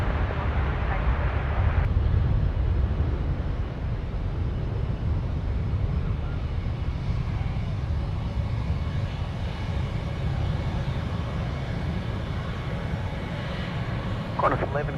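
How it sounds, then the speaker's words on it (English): An Airbus A380 takes off at Sydney Airport, its engines a loud, steady, broad roar that holds throughout, with a person talking over it and wind buffeting the microphone. "A380 away"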